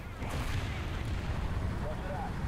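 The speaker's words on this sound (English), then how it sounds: "Let's put some artillery over there." Artillery fire in War Thunder, a sustained low rumble of booms and distant blasts rolling on steadily throughout, with a faint voice in the background.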